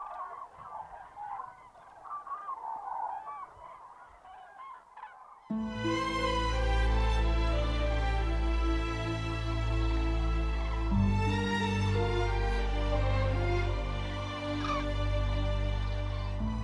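Flock of migrating cranes calling at night, a faint scattered chorus at first, then loud, dense trumpeting honks from many birds close by, continuous and overlapping.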